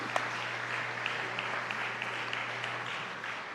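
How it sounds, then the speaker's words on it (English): Applause at a university Founders Day ceremony, a steady wash of many hands clapping from a crowd, moderately distant and continuing throughout. "So give him another round of applause."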